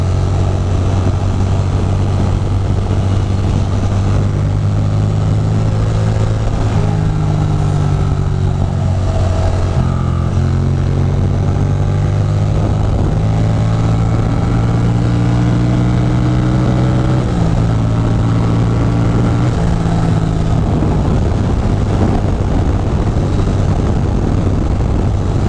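A vehicle engine is wound out hard along a twisty back road, Old Route 17, droning loud and close for the whole stretch, its pitch climbing and dropping repeatedly through gear changes and corners, with no talk over it.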